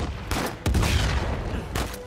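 Heavy gunfire from RPGs and snipers in Uncharted 4, with loud overlapping shots and blasts packed into a couple of seconds of dense combat noise.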